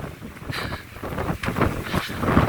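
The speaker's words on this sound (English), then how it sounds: "Hey, wind, blow off my hat already." Wind gusts buffet the microphone on a hiking trail along the Pacific Crest Trail, rough, uneven rushing that swells and fades, close and fairly loud, with no one talking.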